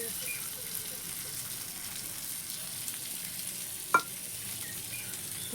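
Mackerel fries in oil in a pan over a wood-fired clay stove, giving a faint, steady sizzle with one brief sharp clatter partway through.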